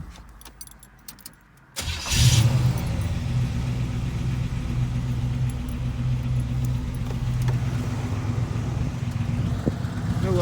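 A 1980 Chevrolet El Camino's 5.7-liter V8 engine cranks and catches with a burst, then settles into a steady, rumbling idle that continues throughout.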